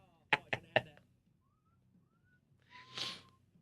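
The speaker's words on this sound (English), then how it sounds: "I used my terrible whistle" A man on a sports talk show attempts a poor whistle: faint, wavering tones that end in a breathy, airy burst. Several sharp knocks come just before it.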